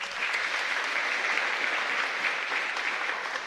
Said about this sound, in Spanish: Al grupo juvenil de la capilla también le queremos dar un fuerte aplauso.